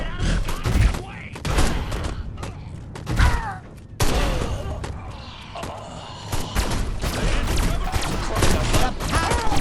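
Dense, repeated gunfire bursts from Destroy All Humans! fill the scene, loud and close, with sharp cracks and thuds clustered throughout, while game voices talk over the shooting.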